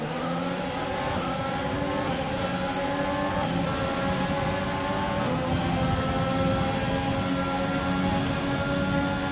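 Several race cars in the F1 2020 racing game accelerate hard at a safety car restart, a loud continuous engine roar with layered rising tones of multiple cars close together, sustained throughout with no talking.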